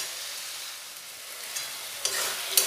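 Spinach cooked down in a hot pan with a little sugar added, stirred steadily over a soft continuous sizzle, with a few sharper scraping clicks near the end.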